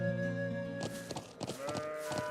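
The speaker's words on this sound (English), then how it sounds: "Found all the lost sheep." Sheep bleating in the video game Trails of Cold Steel, several short bleats in quick succession over steady game music, moderately close.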